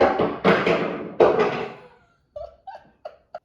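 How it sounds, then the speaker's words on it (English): A dog's bone tumbles down a flight of stairs, starting with several loud thuds and clatters that fade, then a few small, sparse taps as it settles. "That's my dog Grizzly, who throws this bone down the stairs"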